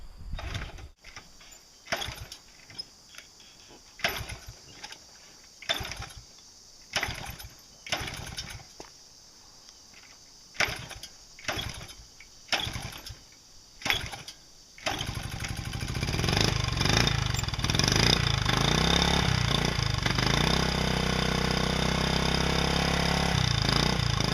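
A 1978 Honda CT70 with a new battery and cleaned carburetor cranks repeatedly in short bursts for about fifteen seconds, then catches and settles into a steady, fairly quiet idle that runs on to the end.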